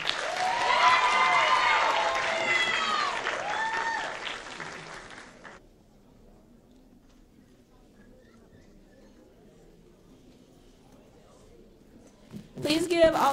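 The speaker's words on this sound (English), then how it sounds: "Please give all of our contestants another round of applause." A talent show audience applauds and cheers loudly for a contestant at a university finale, with whoops rising over the clapping. The applause fades after about five seconds into quiet room tone, and a short burst of sound returns at the end.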